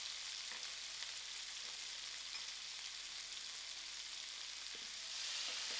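Broad beans frying in oil in a frying pan for a fried snack, a continuous close hiss and sizzle with faint stirring, steady throughout and slightly louder at the end.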